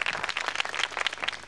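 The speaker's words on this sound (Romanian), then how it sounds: "să-l primim cu aplauze" Indoor applause welcoming a guest at a New Year's Eve gathering in an apartment block, a quick, fairly quiet patter of many clapping hands over a short moment with no talk.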